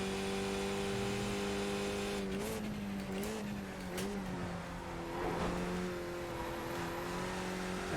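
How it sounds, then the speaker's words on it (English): A Skip Barber race car in the iRacing video game runs at Zolder, its steady, droning engine note broken by a few brief, sharp jolts as it clatters over a white curb. "It sounds like I hit a white curb."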